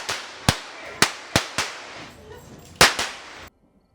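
Blank gunshots crack out in a staged Old West gunfight in a small Georgia town, about eight sharp outdoor reports fired in an uneven volley over three seconds, then silence.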